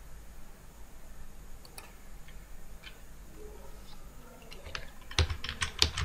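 Faint typing on a computer keyboard, soft scattered key clicks that grow denser and sharper toward the end, over low room hiss.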